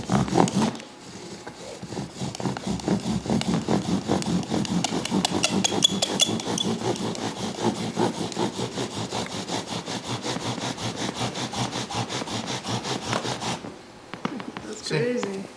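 A spindle is drilled rapidly into a fireboard notch to start a friction fire, producing a continuous rhythmic rubbing and squeaking that stops abruptly near the end.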